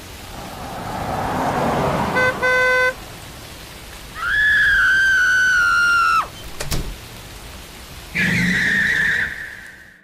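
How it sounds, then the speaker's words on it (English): A stolen car skids and pulls away, with a short burst of horn toots, then long, loud blasts of the horn and a door-like thud between them. "I will steal someone's car and drive the rest of the way there"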